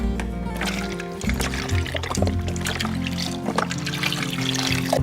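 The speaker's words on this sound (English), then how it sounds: "Now we just put in beef broth. I'm gonna use this whole 32-ounce carton." Beef broth pours from a 32-ounce carton into a slow cooker, a close liquid glugging and trickling that runs for several seconds over a steady tonal musical background.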